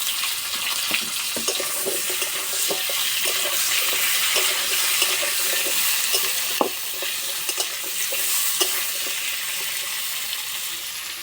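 Potatoes and fish frying in hot oil with five-spice seeds and a bay leaf, a continuous bright sizzle with occasional stirring clicks and scrapes, close and steady, no talking.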